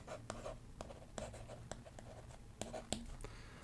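A stylus writes on a reMarkable Paper Pro tablet screen, giving faint, close scratchy strokes with light taps in an irregular rhythm.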